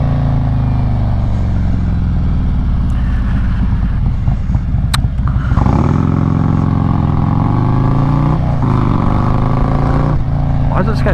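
A Harley-Davidson Road King Special motorcycle cruising at night, its steady low engine rumble mixed with wind noise throughout, with a shift in engine tone partway through and a person talking over it.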